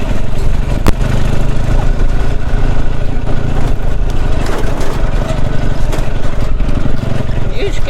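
A small motorized rail trolley at the Hel railway museum pulls a trailer, its engine giving a steady, close, continuous drone from start to finish.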